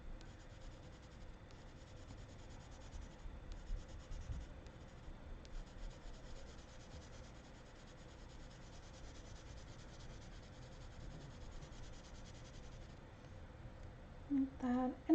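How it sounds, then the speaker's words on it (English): Colored pencil gliding lightly over dark blue card paper, a soft, steady rubbing texture that continues faintly and evenly throughout, alone without talk. "Just sort of letting that pencil glide on top of the surface of the paper."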